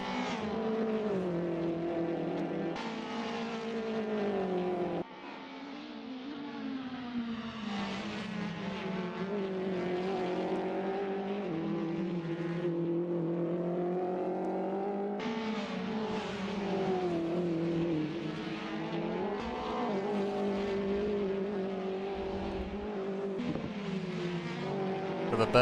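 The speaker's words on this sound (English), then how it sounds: "Hear what sounds like straight cut gears." Race cars with straight-cut gears in a BTCC race at Sonoma Raceway, a continuous loud engine drone with rising and falling pitch as cars accelerate and shift, the gear whine layered over the engine note throughout.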